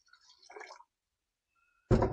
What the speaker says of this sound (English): We're just going to pour some nutrient in here.